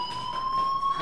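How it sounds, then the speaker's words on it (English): A school fire alarm at Blackwell Academy in the Life is Strange video game, a steady high electronic tone sounding continuously and clearly for the whole moment, with no voices. "Hey, do you hear that fire alarm?"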